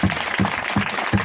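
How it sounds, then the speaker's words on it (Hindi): Congregation at a gospel church meeting in Damua, Chhindwara, clapping along in a steady beat, four evenly spaced claps over a dense, noisy room background. "ताली बजाओ प्रभु के लिए।"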